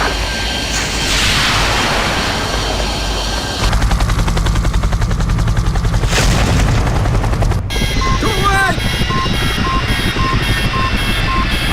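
In a Project IGI cutscene, a missile is fired at a helicopter amid steady rotor thrum and bursts of rapid gunfire; a loud, sharp mechanical transition comes near the end, followed by beeping electronic tones.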